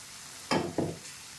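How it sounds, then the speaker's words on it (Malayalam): A squid filling mixed with crushed coconut is stirred in a pan: two quick close scraping strokes over a low, continuous background hiss. "നന്നായിട്ട് മിക്സ് ചെയ്യാം ഇതിലേക്ക് നമ്മൾ ചതച്ച തേങ്ങ ചേർക്കുന്നുണ്ട്"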